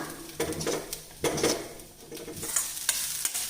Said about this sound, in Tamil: இப்போ இதையெல்லாம் நல்லா கலந்து விட்டுக்கலாம்